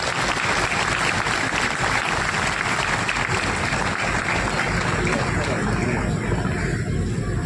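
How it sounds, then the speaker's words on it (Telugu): Steady, dense applause from a ceremony audience honoring a new archbishop, sustained evenly throughout without pause or voices. "చప్పట్లు"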